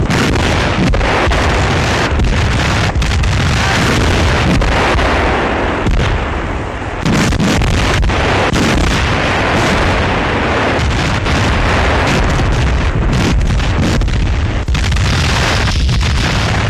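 Wartime barrage of anti-aircraft shell bursts and explosions over the Kuban bridgehead in 1943, a dense, loud, continuous rumble punctuated by rapid overlapping booms and cracks, with one brief lull midway.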